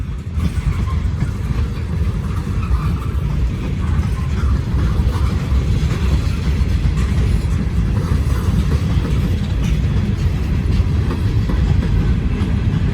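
A long freight train with no rear locomotives rumbles steadily past at close range, heavy continuous roar with rhythmic wheel clatter and no break for the whole stretch.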